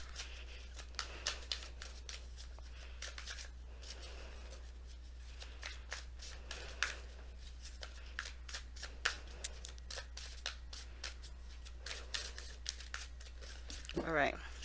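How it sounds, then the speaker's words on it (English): Oracle cards are shuffled close by in a quick run of soft, crisp riffles and flicks that carries on throughout, with a brief rustle near the end and no talk. "We're going to be pulling your Romance Angels cards first"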